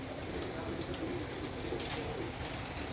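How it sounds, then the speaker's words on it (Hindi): Jeth breed pigeons coo softly in a loft, a low continuous murmur over a steady noisy background, with no talking. "ये जेठ के कबूतर हैं"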